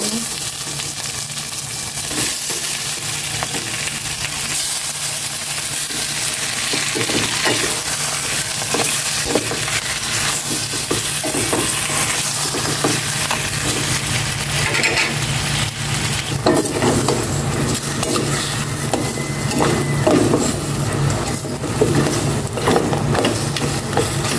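Pork sizzles loudly in a hot pan and is stirred with a spatula, giving a steady close frying hiss with scraping strokes throughout.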